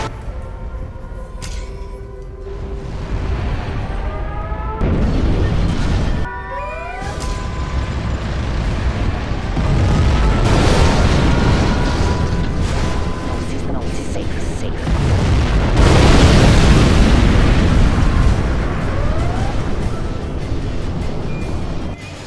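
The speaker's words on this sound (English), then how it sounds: "We have launched our nuclear missile." Nuclear missile launch and detonation in Command & Conquer Generals Zero Hour, during a China tank battle on Bay of Pigs, building to a loud roaring blast amid rising and falling siren-like tones and steady battle din.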